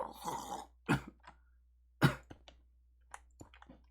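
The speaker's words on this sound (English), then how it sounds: "I still got a bit of a cough." A person coughs and clears their throat in several short, sharp bursts, loud and close, with quieter rasps in between and no talking.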